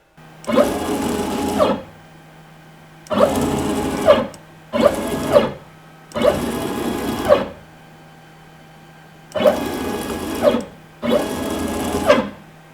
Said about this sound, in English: when I move the machine in the x-axis, it makes a weird grinding noise